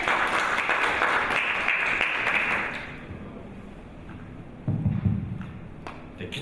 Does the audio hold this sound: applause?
yes